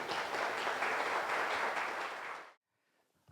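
Audience applause welcoming a guest lecturer at an invited talk, a dense steady roar of clapping for about two and a half seconds that stops abruptly into near silence.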